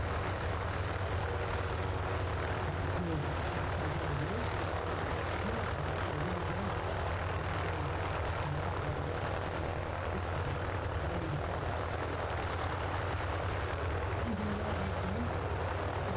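An aerobatic display plane flies maneuvers with smoke at an air festival, its engine a steady, fairly loud drone that persists throughout without voices.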